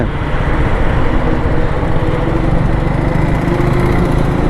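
A Triumph Scrambler 400X motorcycle's 400 cc engine runs in a loud, steady drone, close and unbroken throughout, with no talk over it.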